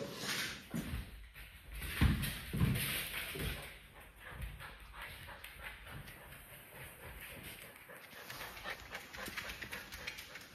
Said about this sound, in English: So that's not me making funny noises. That's the dog.